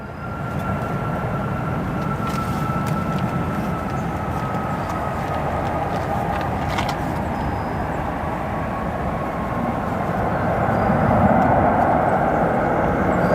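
A JetBlue Airbus A220 at O'Hare spools up for departure to Boston, giving a loud steady jet roar with a faint whining, whale-like tone drifting over it and swelling slightly toward the end.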